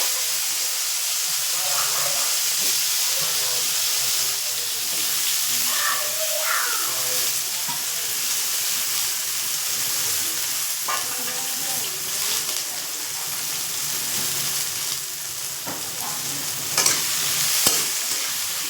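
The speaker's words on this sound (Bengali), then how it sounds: "প্রথমে আমি বেগুনটাকে আগে ভেজে তুলে নেব ইলিশ মাছের তেল দিয়ে" Small salted, turmeric-coated eggplant pieces fry in hilsa fish oil with a continuous crackling sizzle, joined by spatula stirring and scraping that grows busier toward the end. No talking is heard.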